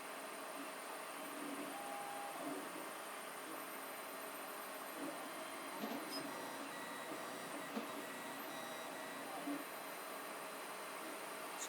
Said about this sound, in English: I put my 3D printer in as a 3D printer enclosure.